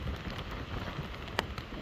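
Rain during Hurricane Helene falls as a steady, dense hiss of drops on surfaces amid gusty wind, with one sharp close knock partway through.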